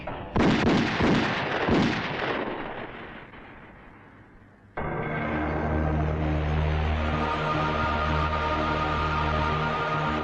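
Gunfire in a Hindi action film: a loud burst of shots and blasts at the start that decays over a few seconds, then a sudden shift into a sustained dramatic music score.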